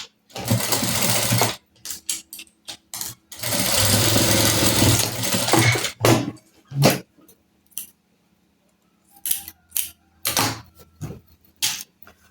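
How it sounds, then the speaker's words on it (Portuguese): Domestic sewing machine running in bursts while hemming a folded fabric strip for a ruffled festa junina skirt, loud close whirring runs separated by pauses and small handling clicks. "E vamos passar uma costura."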